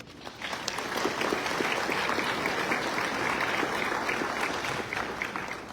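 An audience at a medical school white coat ceremony applauds to welcome a speaker: sustained clapping that swells quickly and stays full and even, many hands close together, with no talking.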